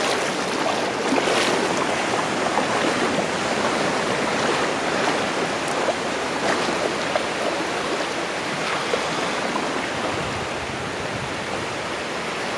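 Steady broadband rush of flowing river water, close and continuous, with no voices, fitting someone wading barefoot in a river on a bright day.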